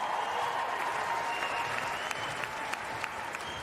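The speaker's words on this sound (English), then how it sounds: "This will be a rather big cheer." An arena crowd at the Longines Christmas Cracker show jumping competition applauds and cheers for rider Scott Brash, a thick, sustained roar of clapping with a few sharper claps near the end and a faint tonal hum underneath.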